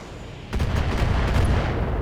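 Mech weapons fire in the BattleTech video game, a sudden loud burst of booming, rumbling shots that continues as a dense barrage.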